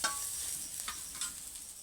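Onions frying in a pan on a wood-fired stove, a soft, quiet sizzle with a few light scraping stirs, and no voices.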